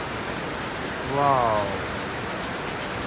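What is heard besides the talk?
heavy rain at the beach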